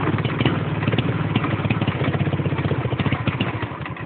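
Motorcycle engine catching and picking up after running out of petrol, a close, rough, pulsing idle with steady rapid firing beats and some mechanical clatter, with no talk.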